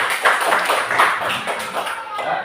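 Children in a classroom clap their hands together in a dense, continuous burst of applause that carries at steady loudness through the whole stretch.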